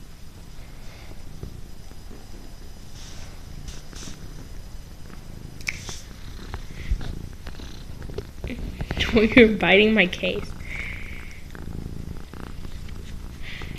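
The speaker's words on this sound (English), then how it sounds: "He's purring if y'all can't hear him." A cat purring steadily while getting a belly rub, a soft continuous rumble that swells briefly midway, heard under a person talking.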